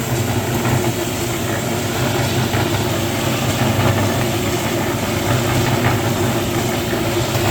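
A rotating mixing machine churns soybean seeds with seed treatment, a steady, loud, continuous rumble and whir with a faint rattle of seeds throughout and no talking.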